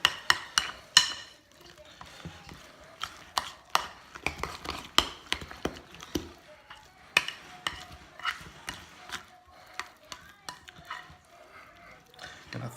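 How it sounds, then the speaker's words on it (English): Potato salad being stirred in a bowl with a utensil, Cajun creamy style, giving irregular scraping and clacking knocks against the bowl, some rapid bursts and some spaced hits, fairly close. "Make sure when you stir in this, you mix it all the way down here towards the bottom"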